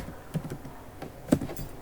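Several soft key presses on a computer keyboard while entering spreadsheet data, scattered light clicks with one sharper tap near the end, fairly close and with no talking.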